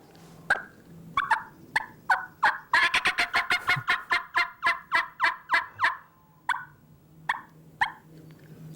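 A human caller imitates a turkey hen by mouth, starting with scattered single clucks and then breaking into a rapid cackling run of sharp, close notes before slowing back to spaced clucks.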